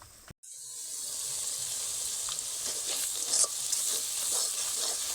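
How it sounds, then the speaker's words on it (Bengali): Spices sizzle softly in a pan for a pointed gourd curry while a spoon stirs and scrapes through them. One brief clunk is heard near the start, then a steady, gentle frying hiss continues. "আবার একবার নেড়ে নিলাম"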